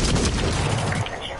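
Rapid gunfire in a co-op first-person shooter video game, a dense, loud burst of overlapping shots that cuts off after about a second, leaving quieter background noise.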